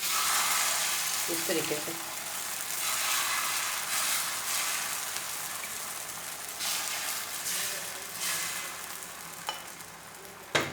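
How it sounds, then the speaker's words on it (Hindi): Egg poured onto a hot pan for egg paratha sizzles with a steady bright hiss that keeps on for several seconds, with a brief clatter near the start and a voice talking over it. "अब यहाँ पे डालेंगे हम अंडा"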